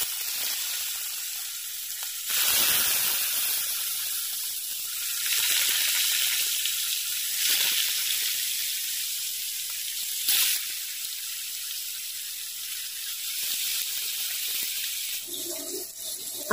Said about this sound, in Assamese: তেল গৰম হৈ গ'ল আৰু এতিয়া তেলত এপিচ এপিচকে মাছ বহাই যাম